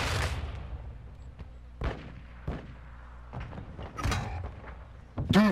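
Pistol fire in the Wheelson game, several sharp single shots spaced irregularly at moderate loudness, separated by quieter gaps.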